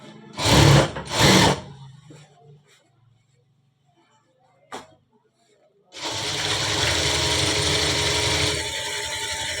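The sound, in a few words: sewing machine double stitching a full-sleeve shirt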